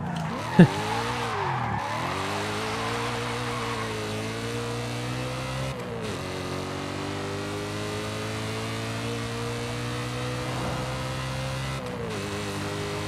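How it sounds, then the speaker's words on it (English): A continuous droning V8 car engine in Forza Horizon 5 holds steady pitch, dipping and rising with gear shifts, loud and close with faint tire noise beneath. "you just can't beat the V8 sound."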